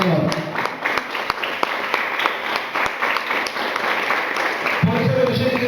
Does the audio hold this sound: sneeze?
no